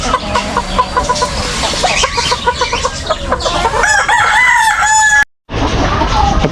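Chickens at feeding time, with loud clucking and a rooster crowing nearby, the crow rising and wavering before a brief cut and more clucking.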